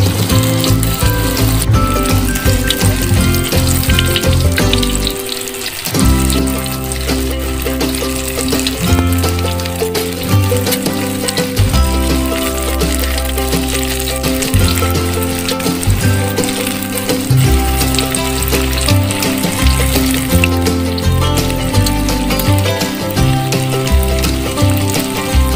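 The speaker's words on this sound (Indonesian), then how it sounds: "Guys, tinggal kita goreng ya." Tofu and sausage egg rolls fry in hot oil with a loud, dense, continuous sizzle and crackle, close up, with clattering pan sounds over it.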